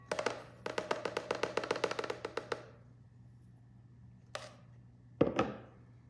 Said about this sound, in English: I'm now going to sift my powdered sugar before I use it in my buttercream.